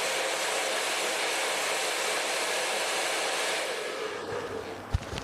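Handheld blow dryer drying curly hair, a steady airy whoosh with a motor hum that holds evenly, then shifts and softens near the end with a brief knock, close and alone.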